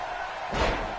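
A wrestler is driven into the mat with a DDT at a King of the Ring event in London, a single heavy thud over steady crowd noise and commentary.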